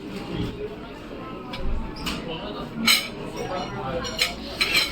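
Mutton biryani being served onto a plate in a restaurant brings several sharp clinks and taps of dishes and cutlery, scattered irregularly over a low room murmur with some faint background voices.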